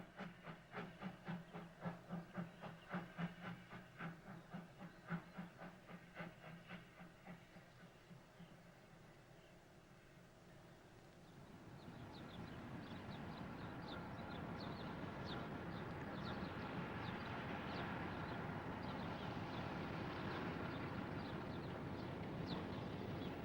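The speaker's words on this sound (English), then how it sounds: "No. 42 propels its train into the coal washer sidings" Steam locomotive No. 42 propels a freight train into coal washer sidings on the Leamside line, first a rhythmic chuffing, then a broad steady hiss and rumble of moving wagons, fairly close and loud throughout.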